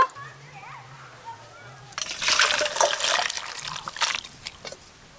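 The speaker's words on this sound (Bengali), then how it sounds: "সবকিছু ভালো করে সেদ্ধ হয়ে গেছে, এবার ঢেলে নেব" After a voice speaks briefly, boiled cooking contents are poured out of a pot, giving a close, loud rush of splashing, sloshing liquid that tapers into trickles and drips.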